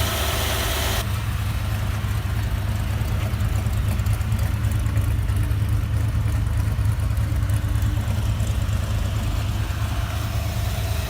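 A rebuilt engine in a 1972 Ford Bronco idles steadily and smoothly with a low, even rumble throughout, with no talking.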